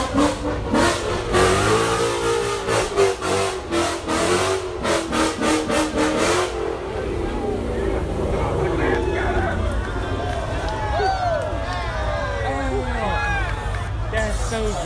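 A Ford Mustang's engine revs and accelerates loudly in repeated bursts at a Mustang Week car event, then eases into a lower rumble while voices and crowd chatter carry on around it.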